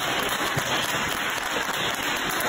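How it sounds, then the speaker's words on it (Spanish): Steady, even wash of studio audience applause on a Spanish talk podcast, sustained and fairly loud with no voices over it. "Un aplauso."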